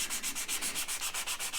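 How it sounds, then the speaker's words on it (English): Hand sanding on the frets of a Fender American Professional Stratocaster, a quick run of about a dozen even back-and-forth rasping strokes, close and fairly quiet, with no voices. "the first bit of sanding I like to do by hand"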